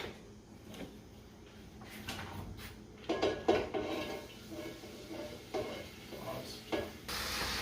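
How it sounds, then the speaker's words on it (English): Vegetables and meat for jambalaya being stirred in a pot, heard as intermittent scraping and clinking of a utensil against metal over a faint sizzle, fairly quiet and irregular in rhythm. "I'm going to stir and saute these vegetables and meat for about 7 minutes or so until everything is brown and cooked through."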